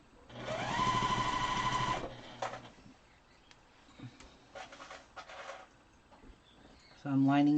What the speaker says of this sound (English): So now you're going to sew this down here.